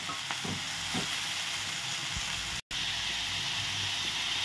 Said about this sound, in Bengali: একটু উল্টাইয়ে পাল্টাইয়ে আমি টমেটোটাও ঢেলে দিব।